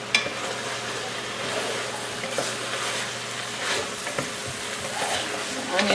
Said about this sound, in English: The onions have become very translucent.